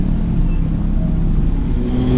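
A motorcycle engine drones steadily while riding through traffic, with loud, close, low rumble and wind noise throughout.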